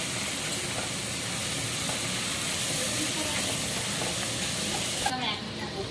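Onion and green chilli fry in hot oil for an Andhra-style egg, brinjal and drumstick pulusu, giving a close, steady hissing sizzle with a couple of light stirring knocks.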